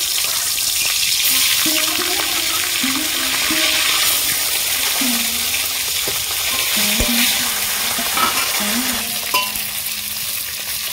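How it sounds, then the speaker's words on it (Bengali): Fish heads sizzling steadily in hot oil in a home kitchen pan, a continuous close crackling fry with occasional soft stirring scrapes throughout, and no voices. "এবার আমি মাছের মাথাগুলো ভেজে নেব।"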